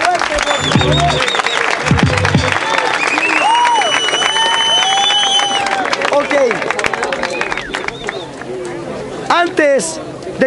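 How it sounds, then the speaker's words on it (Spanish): An outdoor rap battle final crowd in Pichilemu, Chile, claps and cheers under babble and an amplified voice, with whistles and shouts rising near the end. "¡Aplausos fuerte, por favor!"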